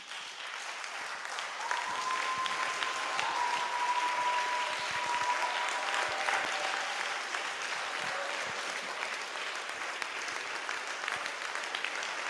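A church congregation at a Sunday service stands and applauds and acclaims Jesus, sustained steady clapping filling the hall for the whole stretch, with a faint sustained tone from an instrument or voice drifting beneath.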